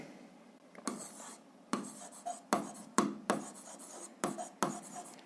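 Notes being written down by hand, a series of close, scratchy pen or pencil strokes in short bursts with small pauses between, quiet and dry with no talking.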